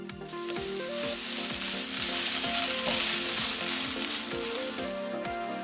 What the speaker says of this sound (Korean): 썰어놓은 채소 넣고 2분 볶기.